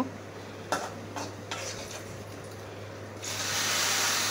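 Hot fried onion tempering is poured into a taro stem and shrimp curry, setting off a rising sizzle after a few soft stirring clinks. It is close and steady and builds into a loud hiss toward the end.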